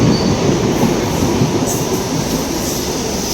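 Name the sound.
Mumbai local train running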